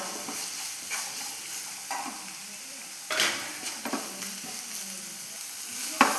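Onion masala with curry leaves and salt being sautéed in a little oil, a quiet low sizzle punctuated by a handful of spoon scrapes and taps against the pan, close up.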